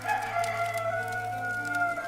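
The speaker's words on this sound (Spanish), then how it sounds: "el gallo cantó." A rooster crows in a long, drawn-out call, fairly quiet and slightly distant, steady over about two seconds against a low background hum.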